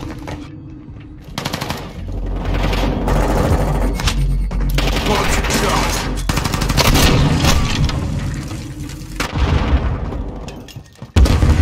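Dense automatic gunfire and single shots crackle from a Platinum SP-X 80 in a Modern Warfare 2 (2022) team deathmatch, with loud sustained bursts, booms and a faint voice underneath.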